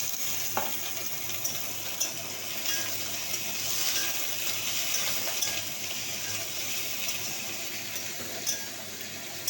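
Cut pumpkin pieces frying in a pan with green chillies, giving a steady, close hiss and sizzle with occasional light clicks of stirring throughout.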